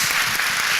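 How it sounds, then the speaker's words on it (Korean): Audience applause at a youth open-mic memorial event for the second anniversary of the Sewol ferry disaster, a brief burst of steady, close clapping from a crowd. "아버님께 여러분 박수 한번 부탁드리겠습니다."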